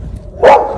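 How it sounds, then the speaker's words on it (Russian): Brown Labrador dogs give a single short bark outdoors, fairly loud and close, rising out of quiet background. "Там коричневый лабрадор ругается на нас."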